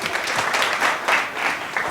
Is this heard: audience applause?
yes